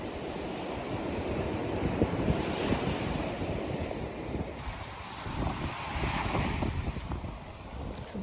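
Waves roll and wash onto a beach during shelling, a steady broadband surf roar with gusty wind buffeting the microphone, swelling slightly partway through, with no voices.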